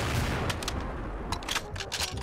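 Cold Roar M82A1 BB gun firing rapidly, a fast burst of sharp cracking shots with loud mechanical noise underneath.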